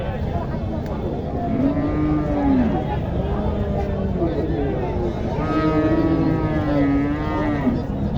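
Indian bullocks at a cattle market give several long, drawn-out moos, some overlapping, over a constant background of crowd noise.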